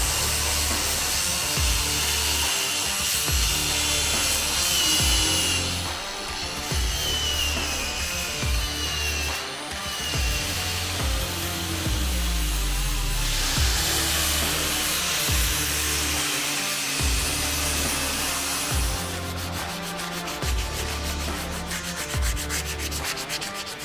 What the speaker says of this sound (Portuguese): a gente desbastou toda aquela parte trincada ali, lixei em volta com uma lixa 80 para dar aderência